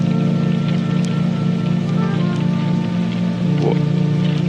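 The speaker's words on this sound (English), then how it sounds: "It's still raining." Rain falls in a steady, dense patter with a constant hiss and no breaks, loud and close throughout with no voices.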